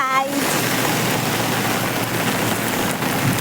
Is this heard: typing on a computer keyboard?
no